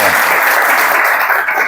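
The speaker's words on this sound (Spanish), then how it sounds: "Fuertes los aplausos, por favor." Dense, steady applause from an audience at an intercollegiate debate tournament held at a school in Paraguay, loud and continuous for the whole stretch with no voices on top.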